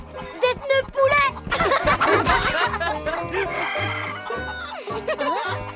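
Chickens cluck and squawk in short bursts with a rooster-like call, loud and close, with voices and laughter mixed in.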